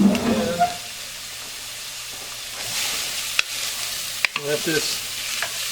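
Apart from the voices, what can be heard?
minestrone vegetables frying in warm oil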